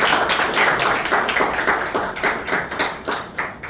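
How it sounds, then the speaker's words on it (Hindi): Loud applause from the audience at a poetry recitation gathering, dense rapid clapping from many hands, sustained and close throughout. "अजीब के लिए जोरदार तालियां।"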